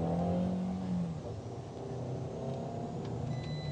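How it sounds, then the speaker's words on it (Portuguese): A car with a Dualogic automated gearbox set to sport mode accelerates from a turn, a moderate engine rise heard from inside, fairly quiet and steady with no talk over it. "Ele, como está na função S de esportivo, ele tem uma arrancada boa"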